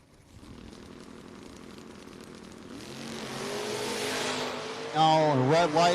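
Drag race cars, a Chevy S10 and a Ford Mustang, idle faintly at a No-Box 660 shootout, then a loud engine revs up near the end, with voices underneath.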